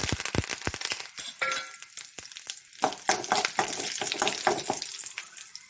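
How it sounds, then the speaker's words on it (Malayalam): Mustard seeds, chillies and curry leaves hit hot oil in a pan, bursting into crackling pops and a bright sizzling spatter up close that settles into a steadier fry. "ഇനി കടുക്, മുളക്, എണ്ണ ചൂടായി നമുക്ക് കടുകും മുളകും കറിവേപ്പില"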